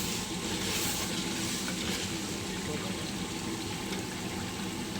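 Lachha onions fry and sizzle in a pan while being stirred, a steady loud hiss with soft scraping throughout and no break.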